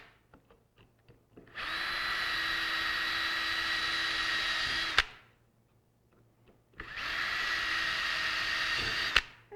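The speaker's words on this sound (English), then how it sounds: "So we'll just go ahead and drill the interstitial holes now." Power drill boring interstitial holes through a Kydex knife sheath, two sustained whining runs of a few seconds each separated by a brief quiet gap, close and moderately loud.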